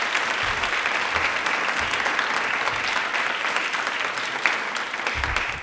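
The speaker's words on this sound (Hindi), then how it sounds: "तालियां प्लीज एक बार जोरदार बजा दीजिए" Audience applause at an Indian Railways quiz programme, a steady wash of clapping from a crowd that carries on for several seconds with no talk over it.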